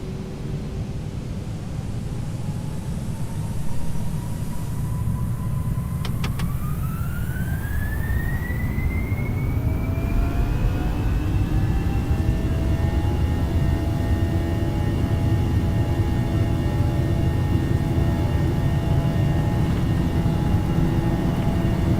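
Simulated IAE-engined A320 jet engines spooling up to full takeoff power in X-Plane 11, a rising turbine whine climbing over a steady, loud roar that holds for the rest of the run.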